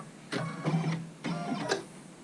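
Computerized embroidery machine running in short bursts, two roughly half-second passes of whirring mechanical stitching separated by a brief pause, close and fairly quiet with no talk.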